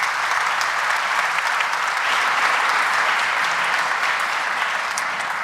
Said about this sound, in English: How about another round of applause for our special pianist?